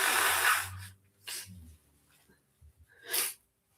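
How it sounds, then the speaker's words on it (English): Someone blows their nose in a few short, sharp bursts, close and fairly soft, separated by brief pauses. "Let me just blow my nose."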